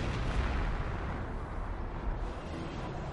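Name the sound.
on-map artillery fire in a video game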